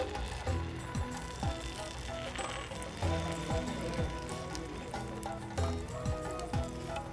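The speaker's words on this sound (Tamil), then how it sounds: "நீ பணியாரம் ஊற்றி காமிக்கிற சோள பணியாரம்." White sorghum paniyaram batter poured into a hot paniyaram pan, a steady crackling sizzle with recurring soft clinks and scrapes, no talking.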